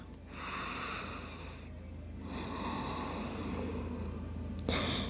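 Slow, audible breaths taken while holding child's pose in a yoga mobility flow, two long drawn-out airy exhales close to the microphone, followed by a brief soft rustle near the end.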